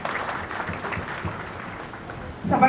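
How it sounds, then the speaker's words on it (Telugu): An audience claps at a public welfare-scheme cheque distribution event with a local MLA, a moderate, uneven patter of hands that swells again at the end, mixed with faint voices. "చప్పట్లు కొట్టాలి."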